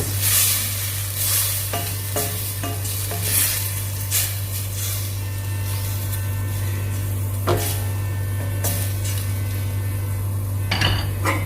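Pork chops fry in a pan with a little water, sizzling steadily close by while a utensil scrapes and stirs in repeated strokes against the pan, with occasional louder clanks and a steady low hum underneath.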